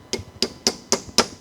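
Five evenly spaced light metallic taps ring out close and crisp as a snap ring is tapped into place on the pinion shaft of a 1986 Porsche 944 Turbo.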